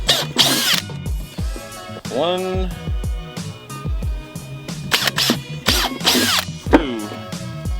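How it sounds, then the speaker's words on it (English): A power drill bores a hole while lights are fitted near a vehicle tire, heard as a few short, harsh whirring bursts broken up by someone talking close by. "you're also gonna need to drill a hole to be able to fit this thing through it"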